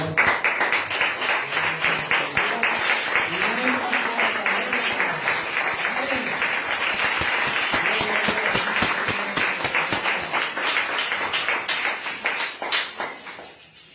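Sustained applause from a church congregation praising God, dense and steady for the whole stretch, with voices rising over it and fading out at the end.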